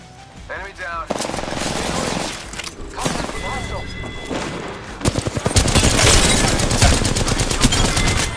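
Rapid automatic gunfire rattles in Apex Legends, with bursts of shots early on and a dense, loud fusillade in the second half, mixed with game effects and voices talking over the action.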